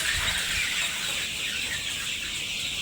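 Young chicks about 35 days old, kept for sale on a farm, clucking and peeping in a steady, busy chorus close by, with no talking.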